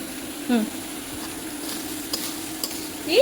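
Jackfruit seeds being stirred and sautéed in a pan at home, a soft scraping stir with a faint sizzle and light clinks of utensil on the pan, brief murmurs of a voice and a child nearby.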